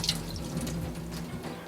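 Water poured onto a portable shrinkable unisex urinal device, a soft close splashing and trickling that runs steadily for under two seconds with no voices.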